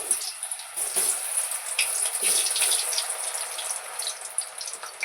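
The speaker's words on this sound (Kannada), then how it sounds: "ಎಣ್ಣೆ ಕಾದಿದೆ, ಇವಾಗ ಹಾಕೊತೀನಿ." Jackfruit kebab batter dropped by hand into hot frying oil, giving a steady loud hiss and crackling sizzle that swells and settles in bursts, with no talking.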